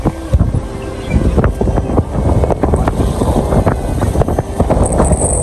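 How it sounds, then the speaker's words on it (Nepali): Strong wind buffets the microphone with loud, rumbling gusts on a highway ride toward Beni and Pokhara, steady throughout with a few sharper thumps. "हावा त्यत्रो चलाएको छ"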